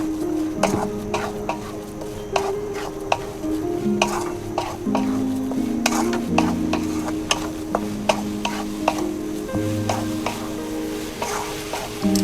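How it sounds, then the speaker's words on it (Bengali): Motichoor laddu mixture being stirred in a pan over a gas flame, with repeated close scraping and clicking strokes of the spoon against the pan over a low, steady sizzle. "1 মিনিটের মতন একটু নেড়ে নেব গ্যাসটা জ্বালিয়ে নিয়ে।"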